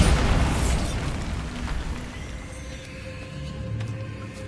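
A Bombarda spell detonates in Hogwarts Legacy with a loud, close explosive boom that rolls off into a slowly fading rumble with faint debris-like crackle.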